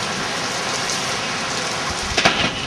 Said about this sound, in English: Now, here we see a storm.